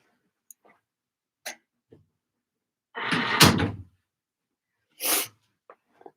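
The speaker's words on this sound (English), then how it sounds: "Let me shut the door 1 minute." A household door is pushed shut, giving one solid thump with a brief rattle, set among scattered small knocks and clicks in an otherwise quiet room.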